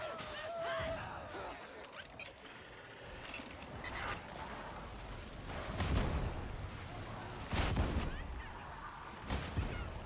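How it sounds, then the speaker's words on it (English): Explosions during an event in a Warhammer video game, a series of dull booms and blasts every couple of seconds, fairly subdued and softened rather than ear-splitting, over a busy background of in-game combat noise. "It used to be such a loud, like, ear-destroying explosion."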